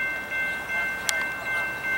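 A passing train at a Southern California railfanning spot, heard as a steady rumbling wash of rail noise with a brief sharp squeal or clank partway through and no talking.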